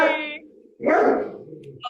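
A dog indoors, during a live music session, lets out a loud, close bark in a single burst, with voices heard just before and faintly after.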